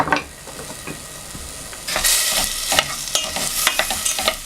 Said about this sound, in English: we're just going to fry those off a bit